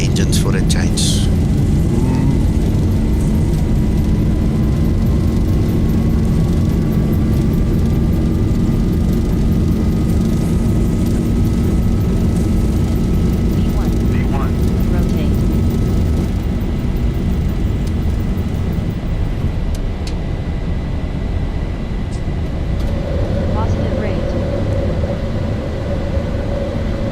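Boeing 737 jet engines at takeoff thrust in a flight simulator, a loud steady roar with a rising whine that holds for the whole stretch, while people talk over it.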